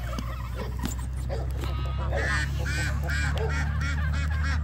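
Ducks, geese and other free-ranging farm fowl call over a steady low hum, with layered quacks and honks overlapping close by; a few barks may be mixed in.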